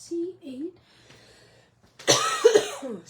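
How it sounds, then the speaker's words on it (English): A lingering, hoarse cough bursts out after a stretch of quiet speech, a single harsh rasping fit that breaks into a few throaty, voiced pulses close to the microphone. "With this awful lingering cough"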